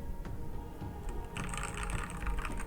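Keystrokes on a Dierya T83 mechanical keyboard, a fairly muted, steady run of soft clicks and thocks with denser, quicker typing in the second half.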